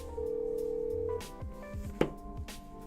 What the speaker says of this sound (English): So there's the first one ringing.